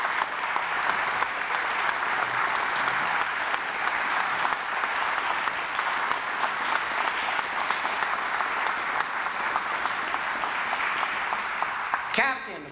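A crowd claps at the Lackawanna County Police Academy graduation for Class 253, a steady, loud, continuous roar of applause lasting throughout before ending abruptly.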